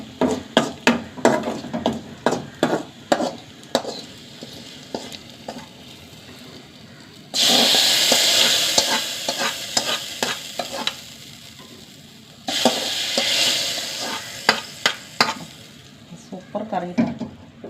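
Onions sizzle and fry in a pan for a lentil curry, broken by a rapid run of sharp scraping stir strokes, with two stretches of loud, steady hissing in between.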